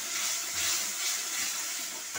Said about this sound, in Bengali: একটু অল্প একটু জল দিয়ে এটাকে ভালো করে আমি কষাতে থাকবো